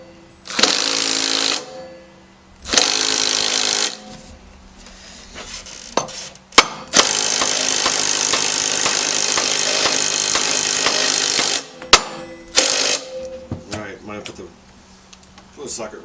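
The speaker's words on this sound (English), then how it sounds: "Put a socket wrench on there." Socket wrench and power tool work on the tight rear hub of a 1986 Suzuki LT185 ATV: loud bursts of buzzing, rattling tool noise separated by pauses, then a long continuous run and a few sharp clanks, close up with voices in between.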